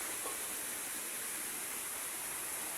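A stream flowing near a rocky, muddy place, heard as a constant broadband rush of water that stays level and unbroken, with no voices over it.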